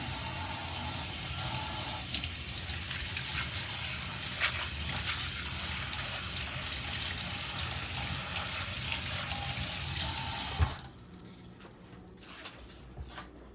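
Gold jewelry rinsed under a running tap, a steady close gush of water splashing into a sink for about eleven seconds, then cut off, leaving faint handling noises.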